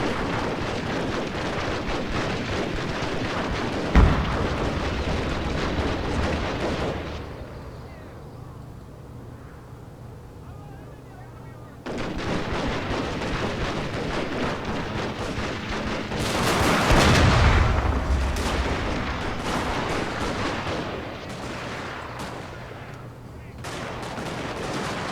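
Battle gunfire and artillery in Shogun 2: Total War, with dense volleys of musket fire and booming cannon blasts, a sharp loud crack near the start, a quieter lull, then heavy firing resuming with a large burst.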